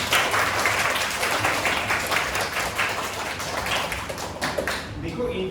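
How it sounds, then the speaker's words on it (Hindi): A classroom group of children clapping loudly for a boy named Naitik during a kids' lesson, a thick, continuous burst of applause that holds steady and tapers only at the very end. "नैतिक के लिए जोरदार तालियां।"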